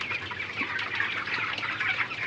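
A shed full of heat-stressed broiler chickens keeps up a continuous, busy clucking and chattering chorus at moderate loudness, with no voices over it.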